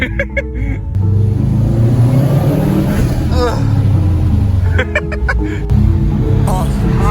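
Subaru STI with a 300 hp Stage 1 setup revs hard while skidding through a snowy parking lot, a loud sustained engine roar with rising and falling pitch, and people talking over it.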